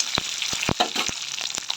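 Lightly crushed garlic frying in a hot pan, a steady close sizzle broken by a few sharp stirring scrapes and pops.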